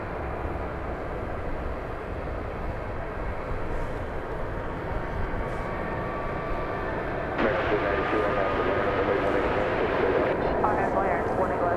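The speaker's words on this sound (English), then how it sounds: "Here comes a Delta flight from Salt Lake City," A Delta passenger jet from Salt Lake City arriving at DFW Airport at night; continuous broad engine roar that swells louder partway through, with a voice talking over it.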